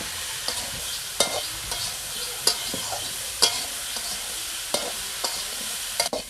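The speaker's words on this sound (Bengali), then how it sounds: "আলু আর মূলো লবণ দিয়ে কিছুক্ষণ আমি ভেজে নেব।" Potato and radish pieces fry in hot oil with salt, a steady soft sizzle punctuated by regular sharp scrapes and clinks of a spatula stirring the pan, close up with no voices.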